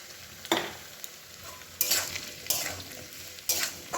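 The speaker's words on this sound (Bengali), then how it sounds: "আলুগুলো একটু তেলে ভালো করে করে নেবো, ভেজে নেবো।" Potatoes frying in oil for aloo posto, a soft steady sizzle broken by several louder bursts of stirring and scraping in the pan.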